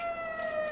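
An arriving ambulance siren sounds as a brief, steady wailing tone with bright harmonics, fairly close and without any talk over it.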